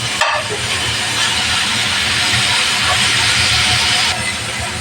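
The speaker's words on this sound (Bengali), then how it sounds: "পাতাকপিটা আমার ভালোভাবে ভাজা হয়ে গেছে" Shredded cabbage fries in a pan with a loud, steady hiss and sizzle that runs unbroken for several seconds, with no voices.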